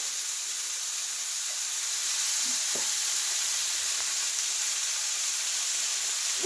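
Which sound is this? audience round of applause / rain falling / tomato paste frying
tomato paste frying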